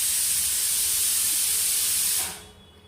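Pressure cooker whistle releasing steam in a loud, steady hiss that lasts over two seconds and then cuts off abruptly, leaving quiet.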